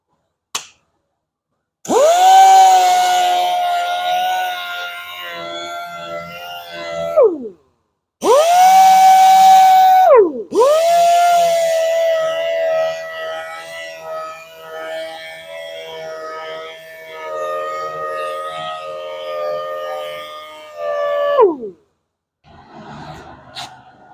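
A machined alloy wheel with curb rash is sanded with 800-grit sandpaper. A motor whine rises in several separate bursts of differing length with short pauses between them, and quieter scuffing can be heard near the end, with no one talking.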